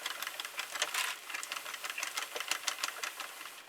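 A Sentro knitting machine cranked slowly with velvet yarn gives a steady, close run of small rattling mechanical clicks and ticks, fairly quiet and continuous with no voice over it.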